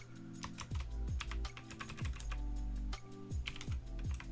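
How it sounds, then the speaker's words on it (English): Steady, rapid typing clatters on a computer keyboard during a live stock-market charting session. The clicks are close and continuous, with a low tonal hum underneath and no talk. "I'm typing this all out"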